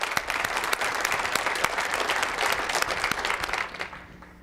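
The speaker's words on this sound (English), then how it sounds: "Let's give them a round of applause as well." Audience applause fills a school superintendent's State of the Schools address in a large hall, steady dense clapping from a crowd that holds throughout and thins slightly at the end.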